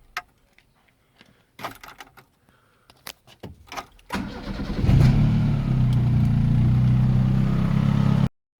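A Mitsubishi GH Sigma engine near full operating temperature: a few clicks and key rattles, then the motor cranks and catches and settles into a loud, steady close-up idle that runs to the end before cutting off.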